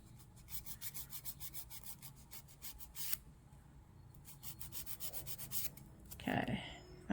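A heavier-grit nail file rasps across fingernails being shaped over builder gel, quick rhythmic strokes in two close, faint bursts separated by a pause.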